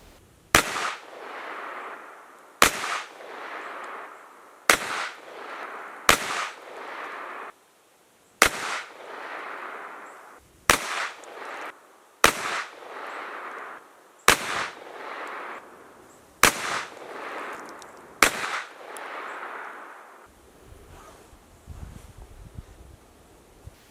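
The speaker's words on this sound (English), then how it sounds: "I'm going to shoot first group, which is going to be 115 blazer brass" Handgun shots with 115 grain Blazer Brass ammunition at an outdoor range, about ten sharp, loud reports spaced roughly one to two seconds apart, each trailing a short echo, with faint wind between shots.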